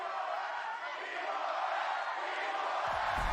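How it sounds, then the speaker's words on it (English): Arena crowd at a VALORANT Champions knockout match between LOUD and Paper Rex cheering, a steady broad roar at moderate distance with no clear individual voices. "Exultations and cheers."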